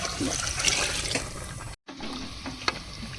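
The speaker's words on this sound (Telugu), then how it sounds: "గిన్నెన్నర వాటర్ పోసుకుందాం." Water pours into a pot of rice for prawn biryani with a close, steady splashing stream that breaks off briefly, then resumes.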